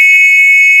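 A flow alarm on a water line sounds a loud, steady high-pitched electronic tone that holds continuously for just under a second with no voices.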